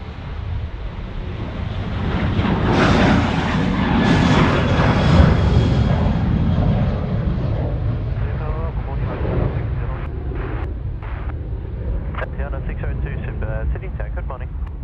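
Rex 738 airliner taxiing past at Sydney Airport, a broad engine rumble and whine that swells and then slowly fades, with wind noise buffeting the microphone.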